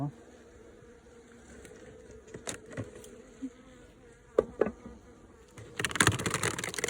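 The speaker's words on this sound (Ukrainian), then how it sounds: "Гарна бджолина родина." A Carniolan honey bee colony hums at an apiary, a low steady insect drone running throughout with scattered knocks and handling noises, and a louder burst of buzzing near the end.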